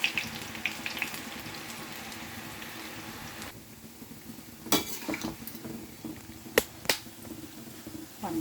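Boondi batter sizzling in hot oil, a steady close frying hiss with faint clinks of a ladle or utensil and a few sharper taps near the end.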